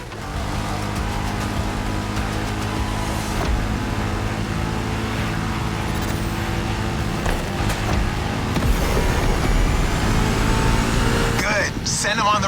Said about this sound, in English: Now you can let the supercharged V8 do the talking.